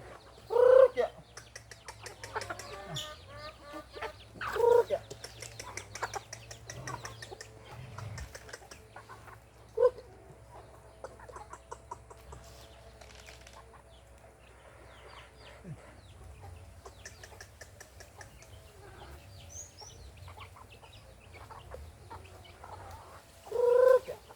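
Chickens on a farm cluck and call over a long stretch, with louder squawks recurring every few seconds among steady softer clucking and low background hum.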